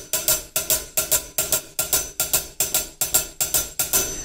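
A basic shuffle beat is played on a drum kit hi-hat or cymbal: crisp, bright strikes in a steady swung long-short pattern, close and clear, with no talking.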